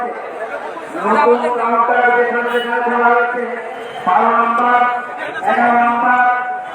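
Cattle low at the Shahjahanpur livestock market, with three drawn-out moos close by over a background of crowd chatter.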